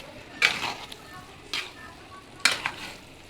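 Biryani being stirred in a large cooking pot, three separate scraping, sizzling strokes spaced about a second apart, moderately close with a low background hiss and no talk.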